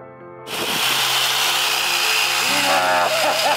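A power tool trims an overgrown bush covered in purple flowers. It starts abruptly and roars loud and steady close by, with a buzzing motor whine throughout.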